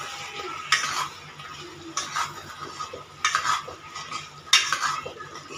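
A spoon stirs tomato chutney with salt and green chillies in a pan, scraping in several distinct sweeps with a faint sizzle underneath, close and without talk.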